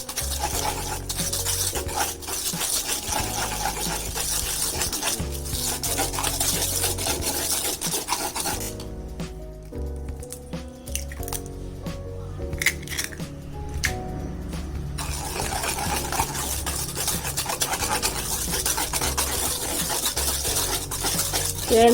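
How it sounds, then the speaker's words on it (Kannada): Eggs are beaten by hand with a whisk or spoon in a bowl for vanilla sponge cake batter, a rapid, continuous scraping and tapping rhythm up close, pausing briefly midway before resuming. "ಫಸ್ಟು 1 ಮೊಟ್ಟೆ ಹಾಕ್ಕೊಂಡು 1 ನಿಮಿಷ ಬೀಟ್ ಮಾಡ್ಕೋಬೇಕು"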